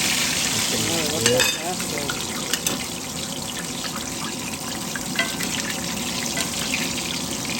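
Hot oil is poured over a chile relleno as it fries, a continuous sizzling and liquid hiss throughout, with people talking under it.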